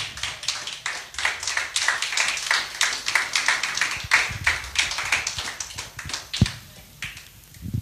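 A church congregation applauding for Jesus, many hands clapping in a brisk, fairly steady rhythm close to the listener that thins out and fades near the end.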